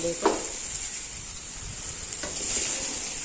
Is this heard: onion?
yes